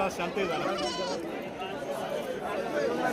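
Goats and sheep bleat at a busy livestock market in Shirur, Pune district, their calls rising over steady crowd chatter and nearby talking.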